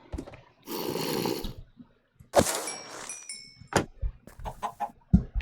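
A chicken in Minecraft clucks in short bursts amid other game sounds, including a rushing noise and scattered thumps and blips.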